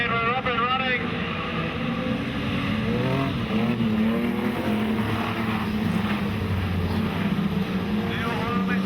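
Modified production race cars roar around Maryborough Speedway at night, a dense, steady engine drone with rising and falling revs from the pack, loud and continuous while a commentator talks over it.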